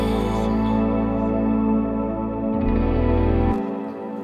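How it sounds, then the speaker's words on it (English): Sustained music drenched in a long, washing reverb, its chords smearing together and the tail ringing on after the notes shift. "I added my own long reverb on top of it, which just took it over the top"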